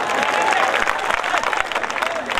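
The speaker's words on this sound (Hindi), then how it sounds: "जोरदार तालियां" An audience applauds loudly at a live comedy show at Ramghat, a dense, continuous wash of clapping that runs throughout with voices mixed in.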